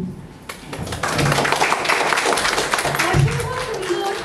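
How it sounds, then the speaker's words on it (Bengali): Audience applause at a talent hunt show, a dense wash of clapping that swells after the first second and holds steady and loud, with some talk mixed in. "আরো একবার জোরে হাততালি চাইবো ওদের সকলের জন্য"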